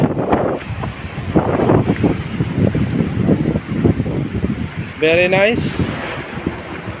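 Rough sea and gusting wind on a rainy day off Bindoy, Negros Oriental, heard from a boat as buffeting wind noise over the microphone and choppy water. A short spoken remark and a brief tonal sound come through over it.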